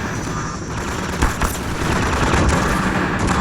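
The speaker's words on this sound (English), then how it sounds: "It's shooting out your cover and it's shooting out your floor." Enemy gunfire in Half-Life 2: Episode One, a steady, dense rattle of automatic shots and impacts that carries on throughout with no talking.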